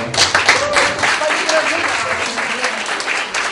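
Audience applause at a jubilee anniversary gathering, loud dense clapping from a crowd that holds steady for a few seconds with slight fading.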